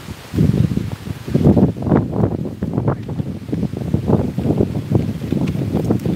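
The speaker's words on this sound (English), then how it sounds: "Sorry about the wind, guys. It's so windy." Strong gusting wind buffets the microphone in low, rumbling bursts throughout, loud and close.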